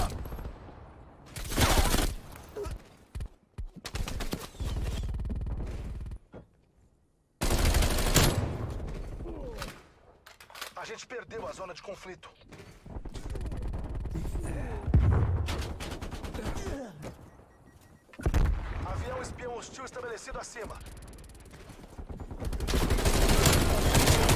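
A Bullfrog submachine gun fires in a video game, with rapid automatic bursts coming in repeated loud volleys broken by short pauses, mixed with other gunfire, while a player talks over the shooting.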